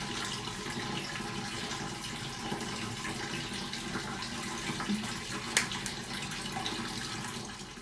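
Steady running water from a tap while dyed wool locks are washed, a continuous even splashing rush with one brief clatter partway through and no voices.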